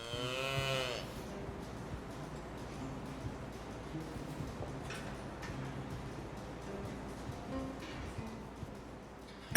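Cattle on a medieval farm: a single loud, drawn-out moo near the start, then quiet farmyard ambience with faint scattered ticks and rustles.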